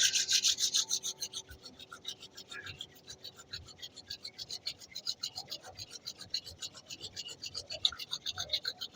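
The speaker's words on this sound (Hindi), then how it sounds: "अपने दोनों हथेलियों का घर्षण करें, रब योर हैंड्स।" Two palms rub briskly together in a continuous, rhythmic swishing friction sound, loudest at the start and then steadier, close up, with no talking over it.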